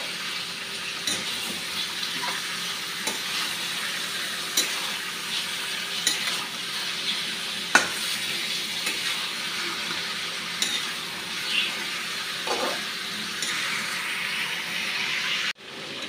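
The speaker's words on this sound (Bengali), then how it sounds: "এখন খুব ভালোভাবে কষাবো।" Chicken sautéed in a pan with onion, ginger, garlic and green chilli paste for chicken curry, producing a steady close sizzle broken by periodic scraping stirs, with no speech.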